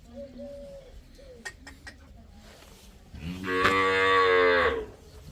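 Cows on a farm, offered for sale, moo loudly and close by in one long harmonic call near the end, after several short quieter calls and a few clicks.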